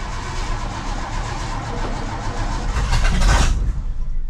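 A Ford car engine cranks over and catches, building to a loud rough rumble with a surge near the end, heard alone without voices.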